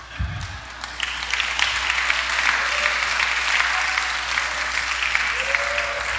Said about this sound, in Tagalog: Hinay na lang ang palakpak.